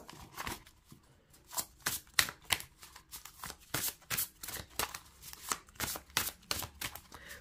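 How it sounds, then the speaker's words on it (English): A tarot-style oracle card deck is riffled and shuffled close by, a rapid series of crisp fluttering bursts repeating in an uneven rhythm. "let's give these cards a shuffle"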